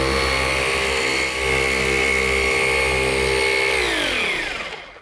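A Flex 3401 polisher runs on a classic car's paint, a loud, steady motor whir that holds its pitch, then spins down as it is switched off at the end.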